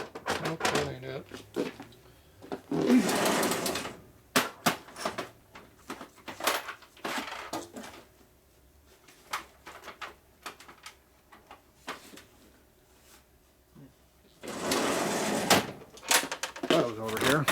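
Drawers in a garage tool chest being pulled open and rummaged through during a Harley shovelhead transmission rebuild, with repeated bursts of rattling metal tools and sliding drawers between stretches of someone talking to himself.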